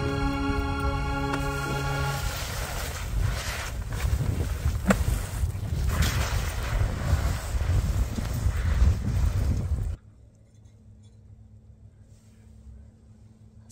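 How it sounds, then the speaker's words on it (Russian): Strong gusting wind roars and flaps against the walls of a freshly pitched yurt, loud and continuous for about ten seconds before dropping abruptly to a faint low hum. "какой ветер, друзья!"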